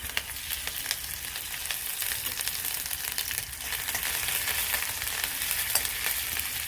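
Ginger, garlic, black pepper and fennel seeds fry in a tablespoon of oil, giving a continuous close sizzle with scattered crackles and occasional stirring scrapes, no voices.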